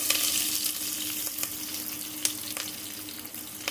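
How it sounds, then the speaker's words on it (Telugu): Onions sizzle steadily in hot oil in a pan, a continuous close frying hiss with a few faint clicks of a utensil, no talking. "ఆయిల్ వేసుకున్న తర్వాత దాంట్లో ఆనియన్స్ వేసుకోవాలి"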